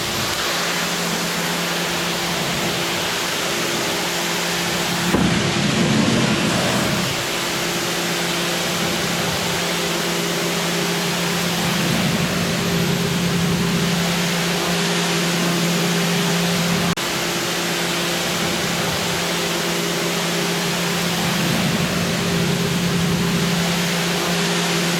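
A Stihl RE110 Plus electric pressure washer sprays a ramp through a flat nozzle, making a steady, hissing water noise with a constant motor hum, fairly close and unbroken, with no talk.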